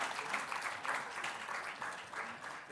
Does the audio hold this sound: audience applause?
yes